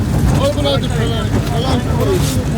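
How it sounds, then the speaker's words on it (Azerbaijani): A tractor drives along with a steady low engine rumble and wind buffeting the microphone, while people talk over it. "Traktorla gəldik."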